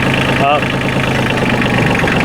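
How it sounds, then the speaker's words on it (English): A Kioti CK27 compact tractor engine running steadily at idle, a loud close diesel rumble with a brief spoken word over it. "It's a very clean burning engine."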